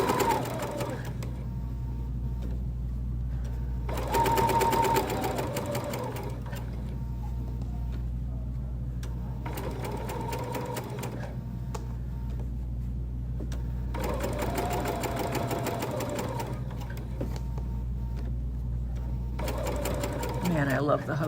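A Bernina sewing machine with hover feature stitches a folding wallet in repeated bursts of steady motor hum and needle chatter, pausing between runs, close and clear.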